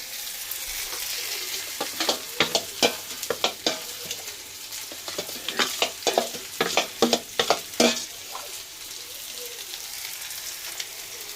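Chicken tandoori coated in masala fries in a kadai, with a steady sizzle broken by a run of sharp clattering scrapes and stirs through the middle, then settling back to a softer hiss.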